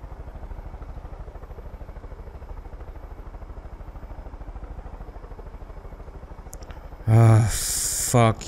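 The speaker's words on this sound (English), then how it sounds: "I like this helicopter." A helicopter in the video game Far Cry 5 gives a steady, rapid rotor chop and engine hum throughout, with a loud burst of other game noise near the end.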